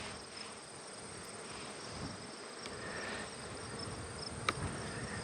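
Honey bees drone in a constant buzzing hum around an open hive, a dense, even swarm sound close by with no talk over it.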